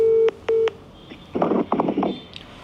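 Two long steady telephone keypad tones sound close and clear in quick succession, followed by a burst of faint, rapid, hissy mechanical clicking as the phone connects, with no one talking.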